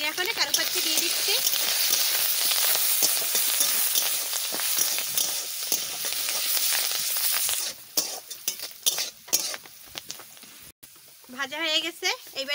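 Curry leaves drop into onions frying in hot oil for a carrot upma, raising a steady crackling sizzle that later breaks into spoon scrapes and knocks, with a person talking briefly at the close.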